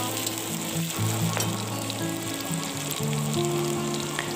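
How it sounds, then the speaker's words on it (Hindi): Chopped potatoes fry on a high flame with a constant, dense sizzle and crackle throughout, accompanied by a steady low hum, with no talking. "इन कटे हुए आलू को हमें हाई फ्लेम पर ही अच्छे तरीके से तलना होगा"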